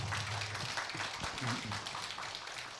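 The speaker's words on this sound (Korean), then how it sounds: "큰 격려의 박수 한번 부탁을 드립니다" A lecture audience applauds after a talk on republicanism, a steady, moderately distant wash of many hands clapping that continues throughout without voices.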